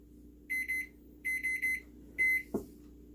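Microwave oven loaded with potatoes beeping in three short bursts of repeated electronic tones, close and clear, followed by a quick click or thud.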